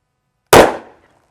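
A single sharp gunshot from a .357 Magnum revolver firing cast hollow-point 300 M&P reloads at a 20-yard range, loud and close, with a quick decaying tail and no talk.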